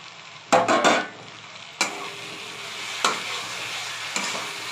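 Potatoes fry in a pan with spice paste for a rohu fish curry, a spoon scraping through them in a few bursts over a steady close sizzle.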